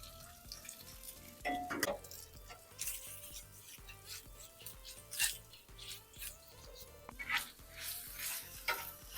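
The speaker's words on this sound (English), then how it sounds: "Go ahead and put down that Italian sausage." Italian sausage laid on a bacon-fat-coated outdoor griddle while cowboy beans are being made on a patio, with soft sizzling under scattered scrapes and clanks of a spatula, plus a few sharper bursts and occasional faint background voices.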